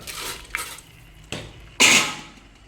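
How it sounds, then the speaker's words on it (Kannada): Soaked rice, drained of its water, tipped into a pot for a single-serving chicken biryani, giving a few separate clattering pours and clinks against the metal, the last one the loudest and longest. "ಈಗ ನೆನೆಸಿಟ್ಟಿದ ಅಕ್ಕಿನ ಇದಕ್ಕೆ ಹಾಕ್ತಿದ್ದೇನೆ"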